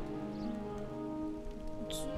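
Steady rain patters down in the video game Hogwarts Legacy, a continuous close hiss with soft tonal music underneath.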